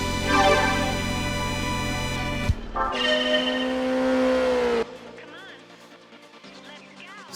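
Simulated car engines from the racing game Gran Turismo 2 drone and rev steadily, then cut to another sustained engine note and a quieter stretch, with a voice talking over them.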